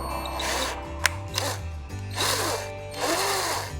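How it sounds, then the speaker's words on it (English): A power drill whirs in three or four bursts with rising and falling pitch, close by, drilling through RV vinyl trim plastic into aluminum, with a couple of sharp clicks between runs. "I'm gonna drill now"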